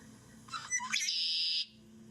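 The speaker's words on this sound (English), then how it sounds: "Red-winged blackbird." Red-winged blackbird sings outdoors, a single song opening with a few clipped notes and ending in a sustained buzzy trill, moderately close against a quiet steady background hum.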